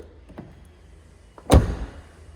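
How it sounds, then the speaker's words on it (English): A 1996 Mercedes S320 long-wheelbase saloon's soft-close door shuts with a single firm thud after a few faint clicks, close by and otherwise quiet. "It has soft closed doors."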